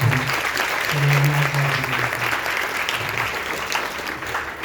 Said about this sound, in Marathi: सगळ्यांनी एकदा टाळ्या वाजून मुंद्रा सरांचा.